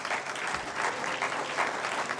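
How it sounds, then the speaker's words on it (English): A room full of people at a small business awards ceremony claps steadily, a dense and even burst of applause lasting a couple of seconds with no voices over it. "Round of applause for them"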